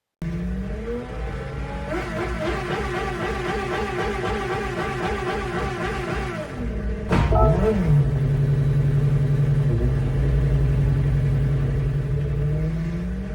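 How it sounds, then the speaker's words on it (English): A Honda NSX engine howls in a VR racing game, revving hard through repeated gear changes, then a sharp shift and a long sustained high-rpm drone, loud and close throughout. "The car literally screams in your ear, and it's so satisfying."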